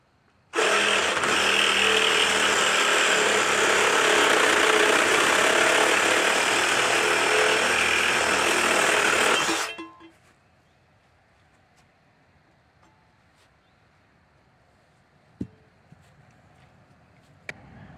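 A power tool cuts through the rear frame of a Yamaha XS650 rat racer motorcycle, a loud sustained broadband whine lasting about nine seconds before stopping abruptly, followed by quiet with a few faint clicks.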